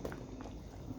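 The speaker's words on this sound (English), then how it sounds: "I just let it boil until all of the food then cook." Jamaican chicken foot soup boils in a pot, a dense steady bubbling and popping simmer heard up close and low in level, with no talking.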